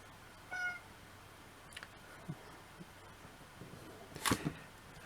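A house cat meows indoors: a short meow near the start and another faint cry later, amid light thumps and clicks over quiet background noise, with no talking.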